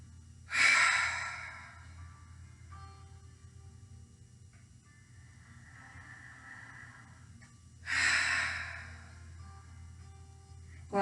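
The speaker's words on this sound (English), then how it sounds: "take 3 deep breaths" Two long, deep breaths during a yoga pose, each a loud airy exhale lasting over a second, with a softer inhale between them, close and alone.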